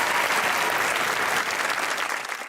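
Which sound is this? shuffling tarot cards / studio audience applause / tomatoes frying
studio audience applause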